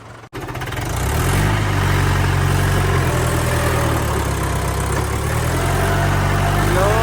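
A tractor engine starts up in a field and settles into a loud, steady idle close by, a continuous low throbbing rumble with no voices.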